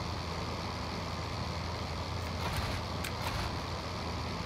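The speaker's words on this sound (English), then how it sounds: "Nobody can hear me because, you know, engines." Aircraft engines in the flight combat game Flying Circus Vol II drone steadily and loudly throughout, a dense continuous roar with a few brief higher clicks near the end.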